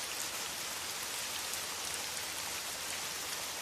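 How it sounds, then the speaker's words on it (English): Steady, dense patter of rain against a night train's sleeper cabin window in Sweden, a continuous hiss of drops with no voices, constant and close throughout. "the pale reflection of rain still tracing its way"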